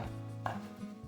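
A kitchen knife chops vegetables for pico de gallo on a cutting board in a brief, close, quiet moment of cutting.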